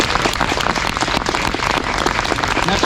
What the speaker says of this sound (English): Let's take a round of applause.